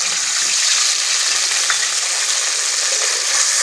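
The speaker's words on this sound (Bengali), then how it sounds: "ফোড়নটাকে হালকা করে ভেজে নেব" Tomatoes and ground spice paste frying in oil over a cumin tempering, a dense, loud, continuous sizzle close up with no talking.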